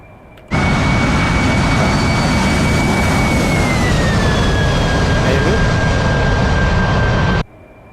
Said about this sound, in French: Vous voyez, il a décollé à la verticale.